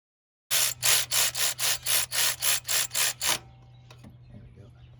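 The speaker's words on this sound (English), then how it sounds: "you just want to spin these bolts in" Water pump bolts being spun into a 1999 Chevy Silverado 1500 4.8 engine make eleven quick, evenly spaced rasping strokes up close, followed by a quiet stretch with faint small clicks.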